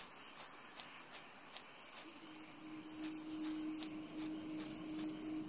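Alien beetle in Empyrion Galactic Survival chirping steadily and fairly loudly, a dense insect-like trill with repeated clicking pulses and a sustained whine joining partway through, with no voices.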